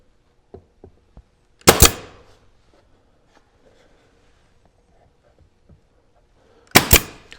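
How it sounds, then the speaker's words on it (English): A headless pin nailer fires into crown molding, giving two loud, sharp pops several seconds apart, with a few faint clicks and handling taps between them. "We're using our headless pin gun to nail on our crown."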